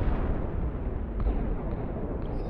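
Weapon explosion striking a planet in Solar Smash, a continuous heavy rumbling blast with dense low roar that holds strongly across the whole stretch.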